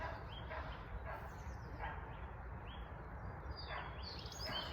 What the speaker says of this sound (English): all you can hear is barking and owners shouting the dogs